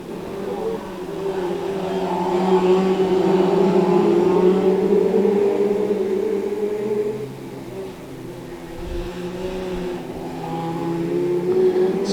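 Brisca F2 oval race cars circle the Cowdenbeath Racewall in a small field of seven, their engines droning steadily and loudly from start to finish, with the pitch rising and falling as the cars pass. A commentator talks throughout.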